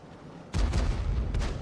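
Tank gun fire from a World War II combat video game, with a single heavy blast that rolls into a sustained loud rumble close by, and no talking.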